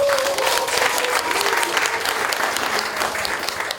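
Sustained applause from an audience at a book launch event fills the space, dense clapping that stays loud throughout and begins to fade at the end.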